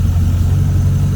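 A GT40 inboard engine in a Nautique ski boat idles steadily after a cold start, a loud, even low rumble with no talking.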